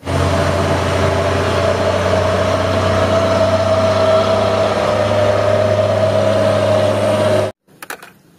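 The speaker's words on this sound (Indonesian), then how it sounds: "Wow, mobil box teman-teman." A toy box truck engine idles loudly and evenly with a low rumble, then cuts off abruptly, leaving a few faint clicks.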